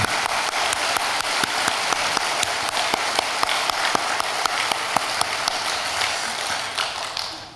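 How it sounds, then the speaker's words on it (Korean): A church congregation claps warmly in a steady, dense wave of applause, with a few sharper individual claps standing out, sustained at an even level before tapering slightly at the end. "우리 뜨거운 박수를 다시 한번 보내도록 하겠습니다."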